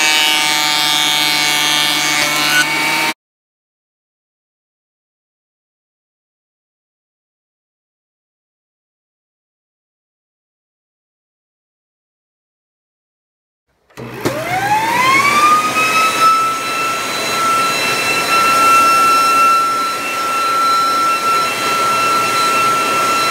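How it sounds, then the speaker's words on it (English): A thickness planer feeds walnut boards, starting with a loud steady whine that cuts out, followed by a long silence, then spinning back up with a rising pitch into a sustained mechanical drone. "instead of planing these to 1/2 inch, I planed them to 3/8 inch"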